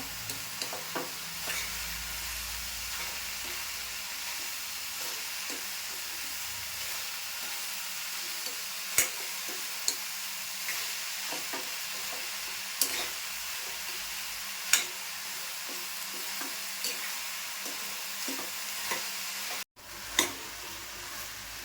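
Ridge gourd vegetable is stirred in a pan, giving a steady close sizzle with scattered scraping ticks and a few sharper clacks of the spoon against the metal, and no talking.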